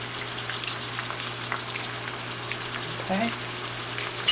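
A dozen shrimp fry steadily in a pan, giving a continuous close sizzle with a low hum beneath it and a brief spoken word near the end.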